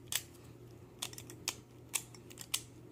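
A Shengshou magnetic puzzle cube being twisted gives sharp, quiet clicks, about six spaced across the span in an irregular rhythm, close by over a low steady hum.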